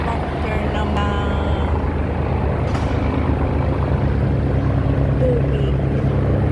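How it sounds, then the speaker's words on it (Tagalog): A helicopter drones steadily over Yuen Long, Hong Kong, with a heavy low rumble, loud and constant throughout, with faint voices underneath. "Ang helicopter naman."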